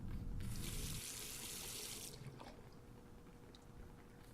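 Water runs over a photographic plate being rinsed in the horror game The Last Door, a loud tap-like gush for about two seconds that fades to a quieter trickle with faint drips.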